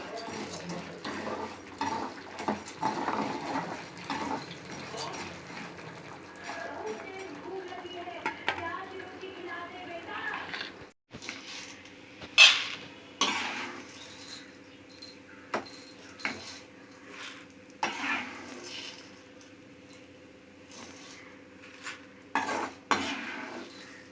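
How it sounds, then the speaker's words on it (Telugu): Urad dal fries in oil in a pan while a utensil stirs and scrapes against the metal. The frying hiss is faint and the stirring comes in irregular clinks and knocks, with some talk. "మినప్పప్పు వేయించుకోవాలండి."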